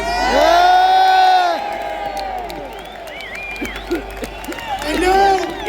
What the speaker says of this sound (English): Let's have a massive cheer for Salwan Mamika.